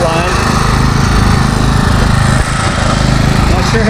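The Kawasaki engine of an old riding lawn mower that had been left for dead runs steadily and loudly close by, still burning old gas from the fuel line, with a continuous droning roar throughout.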